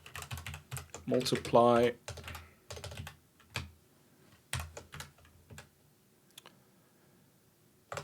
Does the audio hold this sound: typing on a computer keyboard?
yes